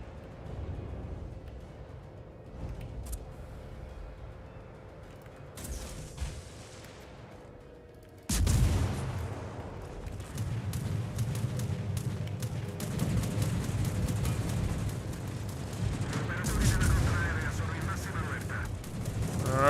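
Naval gunfire from Italian warships in World of Warships, with repeated heavy booms and a dense rumbling barrage that grows louder and stays continuous after an abrupt onset midway, with a steady engine drone underneath.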